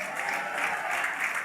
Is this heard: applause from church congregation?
yes